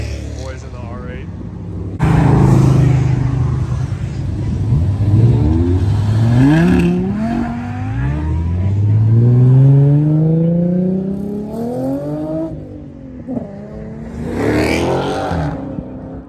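An Audi R8 sports car accelerates hard at a cars and coffee meet, its engine rising through rapid upshifts in repeated climbing sweeps, loud and close, with people talking over it.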